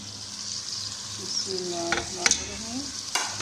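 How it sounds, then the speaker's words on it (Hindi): Potatoes and spices frying in a pan for an aloo masoor dal, a steady close sizzle with a few scraping stirs and short clinks near the end. "अब इसको हम 5 से 10 मिनट तक फ्राई करेंगे"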